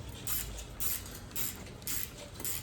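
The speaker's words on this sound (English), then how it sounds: "your 10mm, you want to act like you're tightening it, so you're loosening the bottom nut" A 10mm wrench loosening a bottom nut during drift car prep, heard as five evenly spaced creaking, ratcheting strokes, fairly quiet and close, with no talking.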